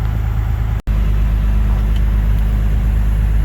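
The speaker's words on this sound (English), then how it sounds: "I'm literally just idling at like 1100 RPM up and down the street because I got no throttle cable." A Ford truck fitted with a Cummins diesel engine idles at around 1100 RPM while rolling slowly down a street, a loud steady low drone with a brief dropout partway through, no voices.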